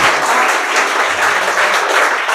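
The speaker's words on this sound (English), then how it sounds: "मंजूर हो तो मीठी मीठी तालियां हो जाए" Dense, steady applause from a school audience at a confidence-building program at SS English Academy, continuous and loud throughout with no break or voices on top.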